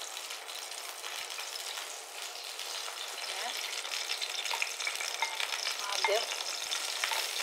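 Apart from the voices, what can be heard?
mushrooms being sautéed in a pan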